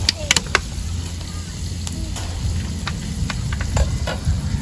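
Fried rice sizzling and being stirred in a hot pan on a rainy terrace, a steady frying hiss with scraping clatter of the spatula, close and continuous.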